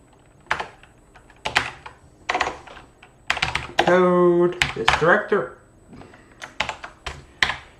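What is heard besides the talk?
typing on a computer keyboard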